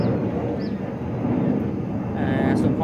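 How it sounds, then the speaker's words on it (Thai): An airplane passes overhead near a garden of moringa trees, making a steady, broad, roaring drone that holds throughout beneath a voice. "มีเสียงดังนิดนึงนะครับเครื่องบินผ่านนะครับ"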